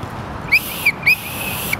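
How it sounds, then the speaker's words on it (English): Several short, sharp whistle chirps, two pairs of shrill bursts in quick succession, loud and close against a quiet background. "Where my whistle?"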